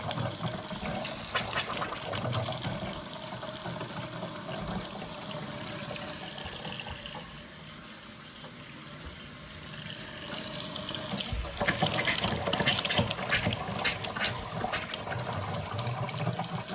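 Hot water runs from a tap into an off-grid sink in a house, a steady gushing splash that holds for the whole stretch, swelling louder near the end with no one talking.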